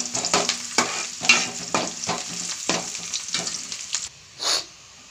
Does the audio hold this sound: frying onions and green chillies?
yes